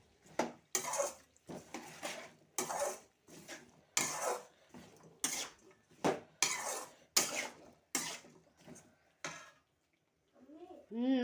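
Broad bean stir-fry being stirred in a pan with a utensil, giving a run of scraping clatters about every half to one second, fairly close, with a voice speaking briefly between strokes.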